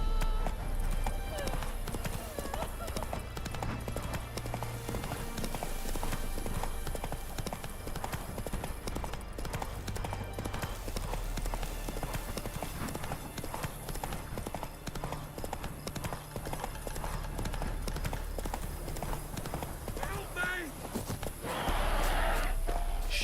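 Hooves of Roach, a horse in a video game, clip-clop steadily and fairly close under a dense layer of game music and ambience, with a rider's voice in the mix.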